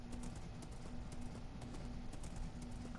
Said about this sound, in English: I picked you because you're a high health horse